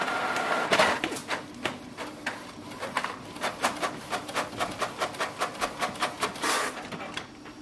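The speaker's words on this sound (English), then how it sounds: "Printer is working." A Canon PIXMA G7020 inkjet printer running a test page, giving a fast, steady series of mechanical clicks and shuttle strokes that build into a regular pulsing rhythm, close and clear with no talk.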